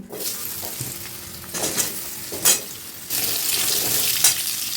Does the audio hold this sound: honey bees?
no